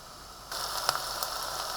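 Mushrooms and vegetables frying in a saucepan, a steady close sizzle and crackle that starts abruptly partway through and continues with a few sharp pops, no talking.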